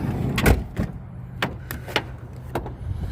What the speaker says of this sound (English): So let me go ahead and open up the rest of these doors here.